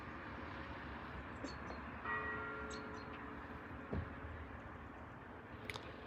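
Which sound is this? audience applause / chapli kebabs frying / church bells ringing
church bells ringing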